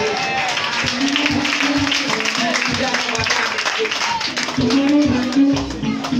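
A church congregation claps and cheers for Jesus, with a steady patter of applause and shouting voices under someone speaking loudly throughout.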